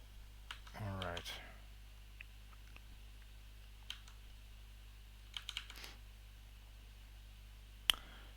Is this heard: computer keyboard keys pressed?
yes